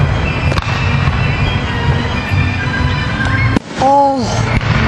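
Fireworks at a balloon festival in Michigan: a dense, steady roar of crackle and rumble with sharp loud bangs, plus a brief whistling tone near the end.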